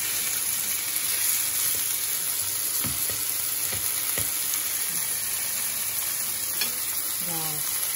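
Pork pieces frying in a pan for butter-baked pork wrapped in bacon, a steady close sizzle throughout with a few spatula stirs and scrapes.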